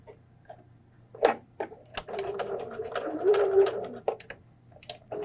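A sewing machine stitching fabric for a homemade flu mask, running in short bursts with a few sharp clicks and knocks between them, close and fairly quiet over a low hum.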